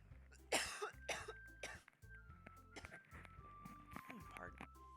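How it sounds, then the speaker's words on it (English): A person coughs several times in close succession at a microphone, harsh bursts interleaved with clicks and a brief throat clearing, loud and near over background game music. "Ooh, I have to cough."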